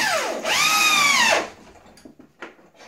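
A high-speed drill drives a 3-inch (75 mm) screw into wood in one loud, rising-then-falling whine lasting about a second, followed by quiet handling clicks.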